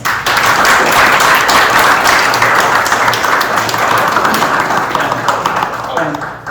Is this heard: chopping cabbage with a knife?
no